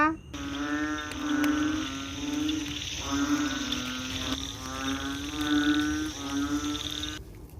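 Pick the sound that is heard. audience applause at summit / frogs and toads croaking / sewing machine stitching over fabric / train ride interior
frogs and toads croaking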